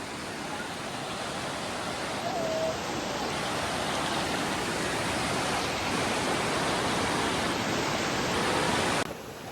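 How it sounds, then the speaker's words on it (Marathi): A strong, knee-deep river rushes past, giving a loud, steady broadband roar of flowing water with no break or other sound. "बघू शकताय पाणी किती जोरात चालू आहे"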